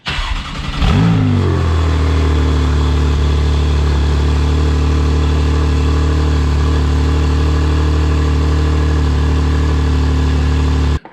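A Porsche 991.2 on its stock non-PSE exhaust cold-starts with a quick starter catch and a loud rev flare. It then settles into a steady, droning high idle that runs unbroken to the end, with no one talking.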